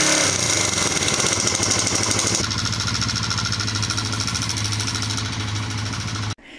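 A motorcycle engine idles loudly and close by after carburetor synchronisation, a steady rapid putter that shifts tone partway through before cutting out abruptly near the end.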